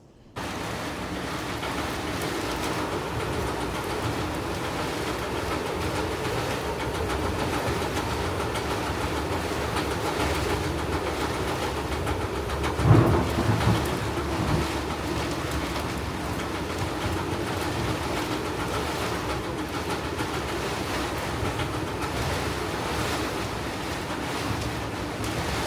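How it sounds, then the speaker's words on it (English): Strong wind from an approaching storm front roars steadily around a boat on a coastal passage near Beaufort, Wrightsville Beach and Southport, with one brief louder gust or knock midway. "Got a big front coming through tonight. It's already started, a lot of wind."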